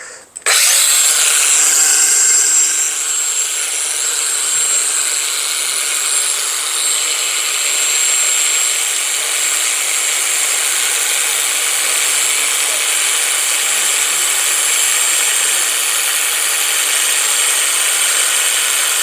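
A Bosch GWS 18V-15 C cordless angle grinder spins up at once and runs unloaded at about 8800 rpm, a loud, steady, high-pitched whine that holds close and unbroken throughout.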